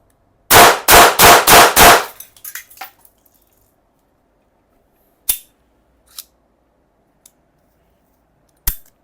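A BLOW Mini9 blank pistol fires five sharp, loud shots in quick even succession, followed by a few metallic clicks and handling taps spaced apart in quiet.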